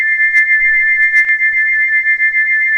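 Steam engine Gordon's whistle gives one long, loud, steady shriek at a single pitch, held unbroken throughout, with a few faint clatters underneath.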